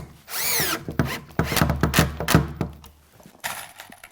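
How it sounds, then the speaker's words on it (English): A drill with an engaged clutch drives pocket screws into wood in short, loud, close whirring bursts, with a clattering clutch slip and scraping, knocking contact between runs. "now I'll just drive in my pocket screws"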